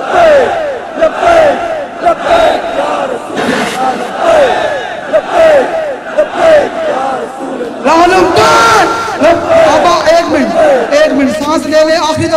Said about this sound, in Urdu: اب انہیں ایسے زور سے نعرہ لگانا ہے.